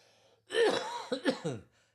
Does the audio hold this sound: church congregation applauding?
no